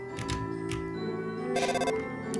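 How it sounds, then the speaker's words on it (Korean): Telephone ringing in Undertale, a synthetic ringtone with a sustained tonal buzz and a rapid trill of pulses near the end, clear and close with no talking. "따르릉"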